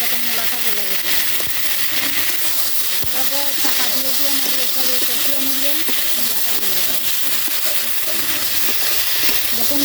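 Radish curry being stirred in a pan: a continuous loud sizzle and hiss of frying runs throughout, with scraping stir noises and a person talking beneath it.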